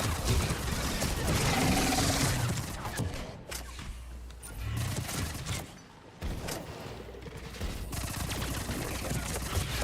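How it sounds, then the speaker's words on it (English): Dense, continuous gunfire and explosions in a multiplayer shooter video game, loud and busy with overlapping bursts. Short gaps break it up, and players talk over the noise. "Sultan, stop shooting me."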